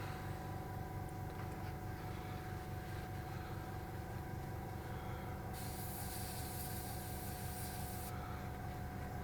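An airbrush air compressor runs steadily nearby while building up pressure, giving a continuous low motor hum and rattle, with a brief hiss of air partway through and no talking.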